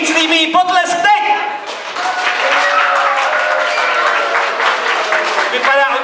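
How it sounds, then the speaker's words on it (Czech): At a children's costume ball, a roomful of kids bursts into sustained applause, dense steady clapping that swells and holds, with an adult voice speaking before it starts and again as it fades. "komu se nejvíc líbí potlesk teď?"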